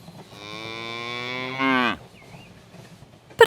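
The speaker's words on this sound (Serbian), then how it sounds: "Krava." A single long, loud cow moo held close for nearly two seconds and ending abruptly, followed by quiet, with no talk.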